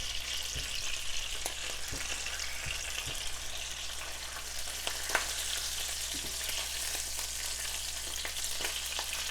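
Food sizzles and spatters steadily in a buttered pan, a continuous close crackle with occasional sharper pops as juices start to release and the food caramelizes.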